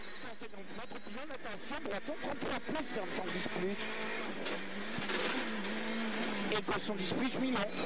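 A rally car on studded tyres at a Monte Carlo special stage revs hard in choppy bursts as the crew sets off, with crackling stud and gravel noise and a rising engine note under crowd voices.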